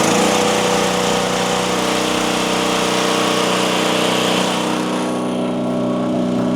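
Small engine of a Chinese mini skid steer running steadily after starting, a loud continuous buzzing drone like a lawn mower, with no talk over it.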